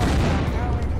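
Rapid gunfire in the video game Unturned, a dense, sustained burst of loud shots with a booming low end filling the whole second, no pauses between reports.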